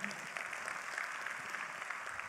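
Applause from an audience at a business talk, a short, fairly faint and even spell of clapping that continues steadily throughout.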